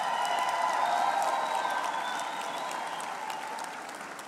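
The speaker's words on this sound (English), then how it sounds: "request the graduates for a big round of applause" Sustained applause from a large crowd at a business school graduation ceremony, steady and full, easing off gradually toward the end.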